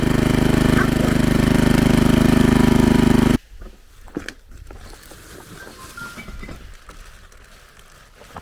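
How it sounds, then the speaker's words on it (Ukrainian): A walk-behind tractor engine drives a homemade 220V generator, producing a loud, steady mechanical drone for about three seconds. It then cuts off abruptly to quiet background with scattered small knocks. "ми вже підключили цей генератор, все працює, все чудово"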